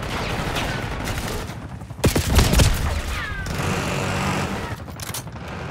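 Rapid gunfire bursts from a Black Ops 6 beta match on the SCUD map in Kill Order mode, dense and continuous, with a louder close volley near the middle over a busy, noisy battle bed.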